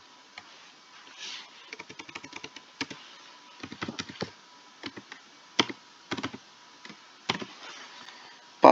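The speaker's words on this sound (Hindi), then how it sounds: "जैसे ही हमने कोड को पेस्ट, पासवर्ड हम डालते हैं" A password is typed on a computer keyboard as a sparse series of soft, close key clicks in small irregular clusters, with pauses between them and no talk.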